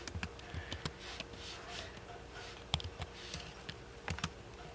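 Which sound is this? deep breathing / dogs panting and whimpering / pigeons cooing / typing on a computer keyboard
typing on a computer keyboard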